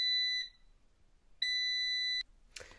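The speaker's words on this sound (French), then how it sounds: "Ça va sonner en fait pour indiquer que c'est fini" An air fryer sounds its cooking-finished alert after boiling eggs: two loud, clear electronic beeps, a short one then a longer sustained tone, followed by a brief clatter.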